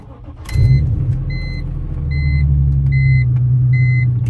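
A BMW E46 M3 engine cranks and catches about half a second in, then settles into a steady, smooth low idle. A repeating electronic chime beeps regularly over the engine, and no one speaks.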